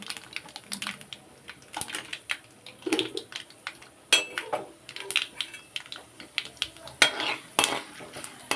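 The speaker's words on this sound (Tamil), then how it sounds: "கடுகு உளுந்து எல்லாத்தையும் போட்டுக்கலாம் நல்லா பொரிஞ்சிக்கிட்டு இருக்கு" Mustard seeds and urad dal spluttering in hot oil, sharp irregular pops and crackles bursting close by in quick uneven clusters, with no talking.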